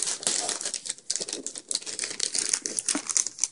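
Gift wrapping paper being torn and crinkled as a present is opened at a family gathering, a busy run of close, irregular rustles and crackles with no talking.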